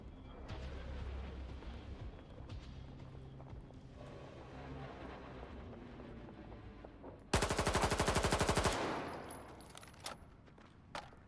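Automatic gunfire in the video game S.T.A.L.K.E.R. 2: Heart of Chernobyl, a loud, rapid burst lasting over a second that breaks out of quieter ambient game sound, followed later by a single sharper shot.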